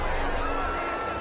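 A home stadium crowd in the football video game Madden 21 cheers after a penalty call, a steady dense roar of many voices lasting about a second.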